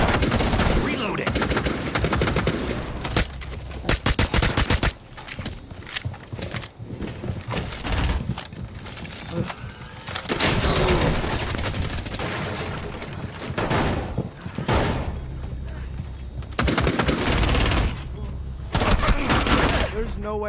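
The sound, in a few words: gunfire in Rainbow Six Siege video game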